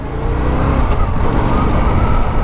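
A 2025 Indian Scout 101 motorcycle rides around town, its engine giving a steady, loud, close rumble with slight throttle swells throughout.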